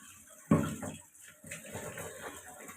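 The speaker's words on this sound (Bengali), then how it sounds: "এই যে সবজি সে ধুয়ে ফেলছে" Water runs and splashes while vegetables are washed in a home kitchen, a sudden gush followed by softer, uneven trickling and sloshing at close range, fairly quiet overall.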